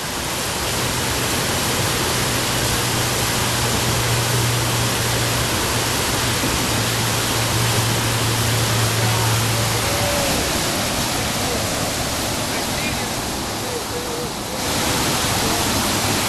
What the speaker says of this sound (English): There's Bill crossing the river.